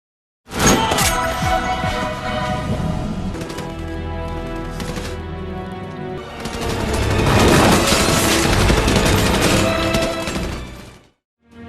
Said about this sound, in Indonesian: terlihat pasukan kepolisian setempat sedang menembaki para pemberontak bersenjata yang berusaha melawan